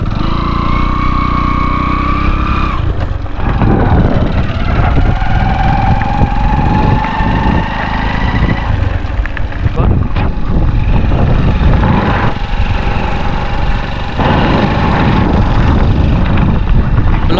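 A motorbike engine runs loud and steady while riding, with a continuous rough drone and rising and falling tones as the revs shift, heard close with no voices over it.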